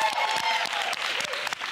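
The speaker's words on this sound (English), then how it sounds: "big round of applause" Audience applause at a Black College Quiz contest between Livingstone College and Chicago State University, a steady wash of clapping from a crowd with a faint voice underneath.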